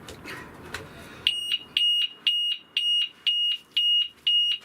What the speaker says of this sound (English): set the alarm off